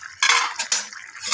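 A utensil scrapes and clatters against a pan while stirring flattened rice with fish head, potato and garam masala in Bengali muri ghonto, two quick bursts of metallic scraping close up.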